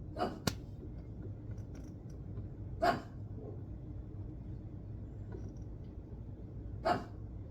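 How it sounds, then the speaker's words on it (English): A few scattered dog barks, fairly distant, spaced seconds apart over a low background rumble. "He's barking at anything either."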